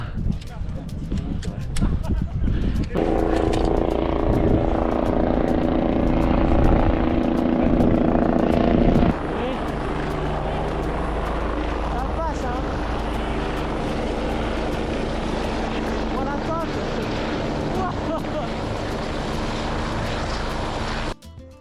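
Helicopter rotor and engine drone on a Corsican mountain trail, a loud steady whirring roar that suddenly drops to a lighter, more distant hum partway through, with people talking faintly over it.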